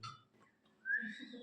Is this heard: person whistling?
yes